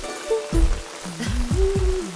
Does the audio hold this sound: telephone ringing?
no